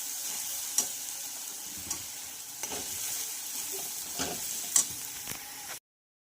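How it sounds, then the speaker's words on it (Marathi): Spice paste with coriander and turmeric powder stirred and frying in oil for a lentil curry gives a steady, moderate sizzle. A few sharp clinks of the spoon against the pan cut in at irregular moments, with no voices. "छान असं मिक्स करून घ्यायचं आहे आणि यामधलं तेल रिलीज होईपर्यंत आपल्याला हे फ्राय"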